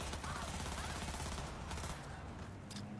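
Rapid, sustained bursts of gunfire with a dense crackling texture, fairly loud and continuous, thinning out toward the end.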